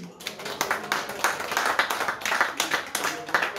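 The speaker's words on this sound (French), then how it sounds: "Donc on peut les applaudir, merci à eux." An audience at a literary conference in a hall applauds with steady, dense clapping, moderately loud and continuous for a few seconds.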